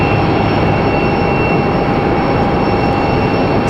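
Southwest airliner at Raleigh-Durham airport, a loud, constant roar of jet engines with steady tonal whine, sustained throughout without talk.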